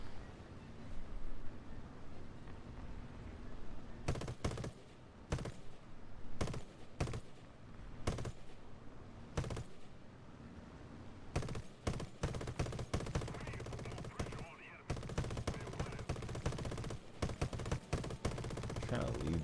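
Repeated gunfire in War Thunder, with irregular bursts and single cracks over a steady engine-like rumble, loud throughout while a player's voice talks quietly beneath.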